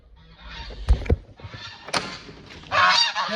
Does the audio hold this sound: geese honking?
yes